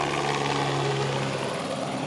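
A helicopter arrives in a constant loud, close rotor roar with a steady low engine drone that fills the whole stretch, with no talking.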